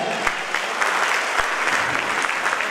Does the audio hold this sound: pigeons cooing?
no